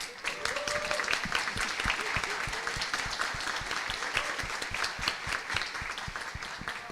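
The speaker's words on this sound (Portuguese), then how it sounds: "eu quero pedir uma salva de palmas para você" Audience applause during the opening panel of an education seminar, with crisp, rapid clapping from a sizable crowd, close and steady throughout with only slight swells in intensity.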